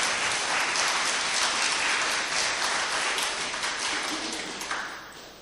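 Audience at a Hindu religious discourse breaking into loud, dense applause that holds steady and then gradually tapers off near the end.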